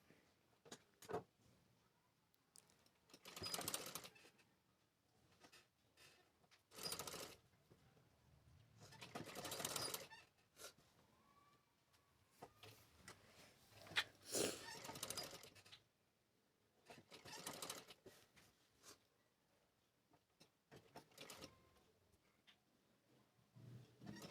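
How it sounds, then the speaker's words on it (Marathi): Sewing machine stitching a fall onto the hem of a saree, running in repeated short bursts separated by brief pauses, fairly close and moderately loud, with no talking. "एकसारखी शिलाई कुठं गोळा होणार नाही याची काळजी घेत शिलाई मारत घ्यायची"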